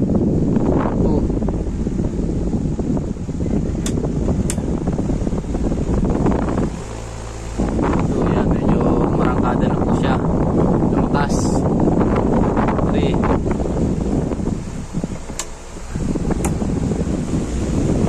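A Hanabishi wall fan runs steadily at its lowest speed setting while oscillating, producing a constant airy whoosh with a low motor hum, close to the microphone, with a brief dip in the middle.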